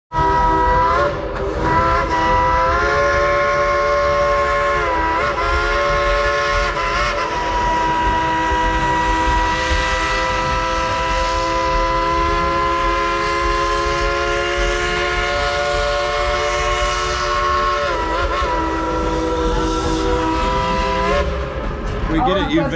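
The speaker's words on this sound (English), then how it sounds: "The train scared me so much" A steam train rumbles past close by at Dollywood, its long, loud whistle sounding steadily over the chugging and rattling of the cars.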